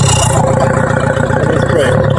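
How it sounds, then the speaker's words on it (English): A VW 1.9 TDI diesel engine idling with a cleaned EGR valve, a steady mid-pitched clatter and hum close by, held constant throughout with speech-like sounds over it. "we fired up the engine"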